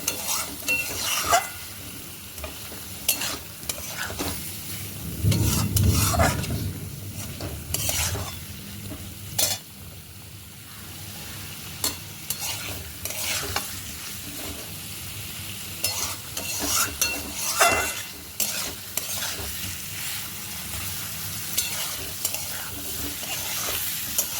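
Potato and cauliflower frying in oil and spices in a pan, stirred with a utensil: a steady sizzle broken by repeated scraping strokes and a louder burst of frying near the start, heard close with no talk.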